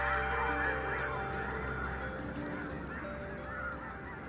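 A huge flock of red-breasted geese in the Danube Delta takes off together, a dense chorus of honking calls with a rushing wash of wingbeats, loud and continuous and heard alone.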